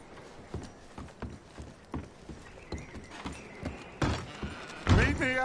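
Horses in the Red Dead Redemption video game, hooves clip-clopping in a steady plodding rhythm close by, with a louder snort or whinny near the end and some speech in the mix.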